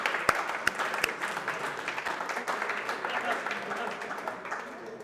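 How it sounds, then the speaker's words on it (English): Applause from a team meeting audience, a crowd of clapping hands with a few sharp, loud claps near the start, running steadily for several seconds beneath some voices. "Alex Cochran, give him a round of applause."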